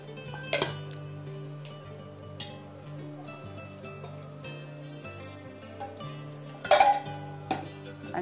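A utensil clinks and scrapes against a bowl while sugar and sweetened milk are stirred together, with sharp ringing knocks standing out over a quiet, steady background.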